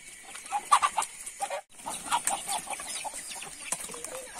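Chickens cluck busily inside a rural chicken coop with a horse, scattered close clucks and soft squawks continuing throughout, with a brief pause partway through.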